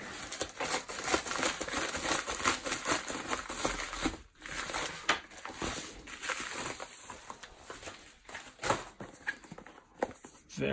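Packaging of a Nomad Base Station Apple Watch Edition wireless charger being unwrapped, with steady close crinkling and rustling of plastic and paper over about ten seconds, punctuated by sharper crackles.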